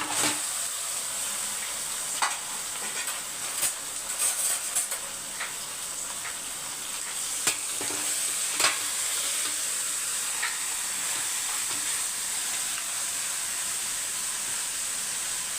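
Chicken added to a hot pan for Chettinad chicken sizzles steadily, a bright continuous hiss close up with occasional crackles and stirring clicks.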